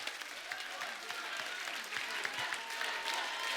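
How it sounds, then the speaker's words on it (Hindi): Studio audience applause welcoming Tiger Shroff on The Kapil Sharma Show, a steady wash of clapping from a large crowd that holds throughout without pause. "टाइगर के लिए जोरदार तालियां"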